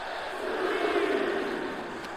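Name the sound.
arena crowd cheering in WWE 2K24 video game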